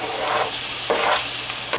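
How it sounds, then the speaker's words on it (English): Chopped onions hitting a hot pan while cooking alongside chicken, giving a steady broad hiss with a louder burst of sizzle midway and another near the end, close and alone. "time to get the onions in here"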